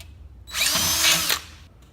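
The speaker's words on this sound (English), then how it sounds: "a guide for drilling the two holes" A power drill whirs for about a second at high speed, close and loud, starting and stopping abruptly with quiet before and after, drilling two holes near the edge of a garage door.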